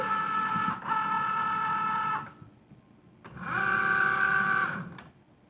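A Cricut Joy cutting machine loads an envelope with a steady whirring motor hum in two stretches, pausing briefly in between, close and moderately loud.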